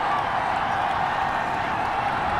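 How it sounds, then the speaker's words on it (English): Stadium crowd noise in an NFL football video game, a steady loud roar of displeasure after a penalty flag during a 49ers preseason game, broad and continuous with no clear claps standing out. "Well, the crowd doesn't like that."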